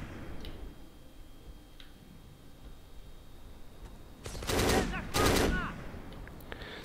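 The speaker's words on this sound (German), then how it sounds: "Irgendwo wird hier übrigens auch noch schon auf mich geschossen, was ich noch nicht sehe." Gunfire from the Xbox shooter Black, heard as two dense bursts of rapid shots midway through, fairly loud over quieter scattered ticks and a low ambient game rumble.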